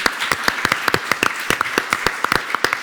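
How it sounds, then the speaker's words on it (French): An audience at a televised French talk event claps in scattered, sharp individual hand claps at an uneven rhythm, fairly close and loud, without a dense roar. "Applaudissements pour Stéphane Dallier."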